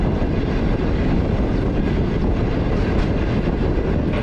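A Green Line Express passenger train moving at speed, giving a loud, steady, continuous rumble with faint clickety-clack from the wheels and no voices.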